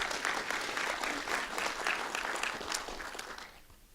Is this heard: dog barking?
no